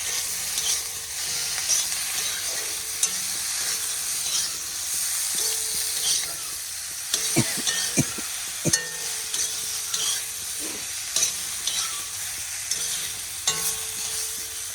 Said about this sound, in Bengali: এবার একটু ভাজা ভাজা করে নিই ভালো করে